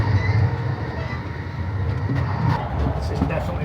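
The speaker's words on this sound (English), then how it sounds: "This is definitely rockier than that other train." Amtrak overnight sleeper train riding over rough, rocky track, giving a steady loud low rumble with rattling and faint clatter throughout, heard from inside the car.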